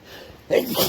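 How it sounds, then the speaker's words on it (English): A single short, sharp sneeze bursts out close by after a brief quiet moment, during a walk beside a large underground river in Tennessee. "That made me sneeze."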